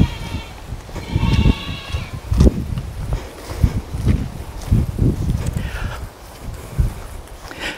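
Goats in a front yard bleat several times amid bursts of rustling and movement, the calls fairly close and loud, with no talking.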